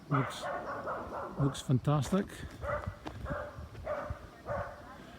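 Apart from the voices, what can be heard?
dog barking in the background outdoors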